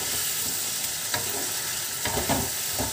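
Taro stem greens being stirred in a frying pan, a continuous sizzle with a few sharper scraping and clattering stirs, close and alone without voices.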